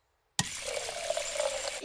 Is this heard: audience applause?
no